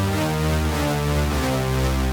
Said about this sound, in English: now what we can do is add an octave to this